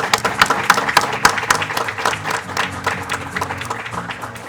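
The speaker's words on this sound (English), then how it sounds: "Let us give him a big round of applause to Mr. Gilma." An audience at an embassy award ceremony, where the Japanese government honors Ethiopians, gives a steady round of applause. Many hands clap at once, close and continuous, with a faint murmur from the crowd.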